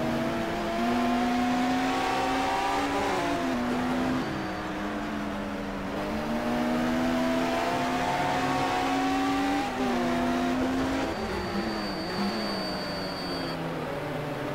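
Touring race cars lapping Laguna Seca in a racing simulation, engines droning and revving continuously as gears shift up and down, a steady loud mechanical whine with no pauses.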